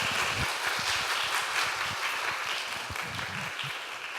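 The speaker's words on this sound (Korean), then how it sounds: "우리 큰 박수로 모시겠습니다." A church congregation at a mothers' prayer meeting applauds to welcome a speaker, dense sustained clapping from a large crowd that eases slightly toward the end.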